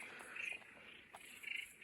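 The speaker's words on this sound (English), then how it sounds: "there's a lot of frogs going on by the sounds of it" Frogs calling at a sinkhole in Tasmania, short high trilling bursts repeating twice in quick succession, fairly faint and heard alone with no talk.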